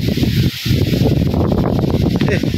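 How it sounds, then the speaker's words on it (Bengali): Strong cyclone wind shakes banana trees in a rural area, with gusty rustling of leaves and buffeting roar on the microphone, loud and close, overlapping a person talking. "এই কলা গাছটি দেখলে হয়তো আপনারা বুঝতে পারবেন কি পরিমাণ বাতাস আইতেছে চারিদিকে"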